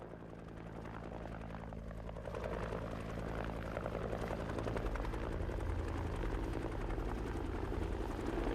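A Bell AH-1 Cobra gunship helicopter flies nearer, its rotor thump and turbine roar swelling gradually from faint to moderately loud, with no voices.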